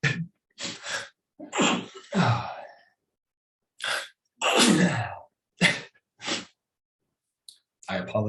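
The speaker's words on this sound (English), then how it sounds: "I get sneezing. I have seasonal allergies." A series of sneezes from someone with seasonal allergies, several sharp close bursts with gasping intakes between them, loud and near, no speech.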